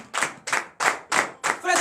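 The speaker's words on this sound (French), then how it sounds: "Donnez de l'acclamation à l'Éternel." A congregation claps in acclamation at a morning prayer service, five loud, evenly spaced bursts of clapping in a steady rhythm, close and unaccompanied.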